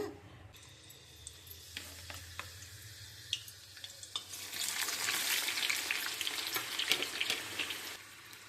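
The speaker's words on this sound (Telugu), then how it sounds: "ఇవి కొంచెం బ్రౌన్ కలర్ అయ్యే వరకు వేయించుకోవాలండి" Vegetables for a pulao fry in hot oil until browned, starting as a quiet crackle with scattered stirring clicks, then swelling into a steady, louder sizzle for the last few seconds.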